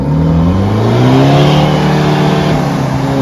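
A Mahindra Thar stuck off-road revs hard and close, the engine pitch climbing and wavering in a sustained loud roar with no talking.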